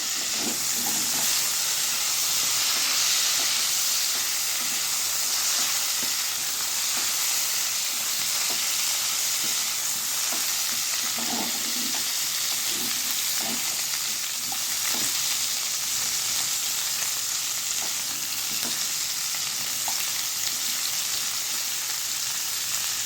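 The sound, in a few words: rui fish curry ingredients frying in a pan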